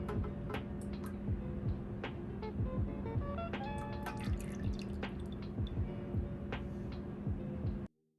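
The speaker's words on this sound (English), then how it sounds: "we'll go ahead and pour and then start mixing" Melted hemp soy candle wax is poured and stirred, with a close, steady run of small clinks and liquid ticks over a low constant hum that cuts off abruptly near the end.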